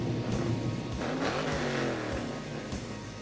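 A tuned Nissan GT-R engine revs hard, rising and falling in pitch with a throaty roar, loud and close, with no voices.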